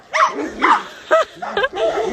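A dog gives about five close, loud barks and yips in quick, uneven succession, some with a whining edge.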